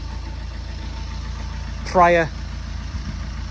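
Fiat 500 engine ticking over at idle, a steady low hum running throughout beneath a short spoken word from a man nearby.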